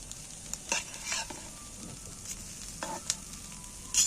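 Food fries in a pan with a steady sizzle, while a spoon knocks and scrapes against the metal at irregular intervals.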